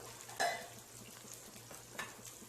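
Onions sautéing with spices in a pan for a ghee rice and dalcha dish, a soft sizzle under a brief stir and spoon scrape near the start, with a low steady hum beneath.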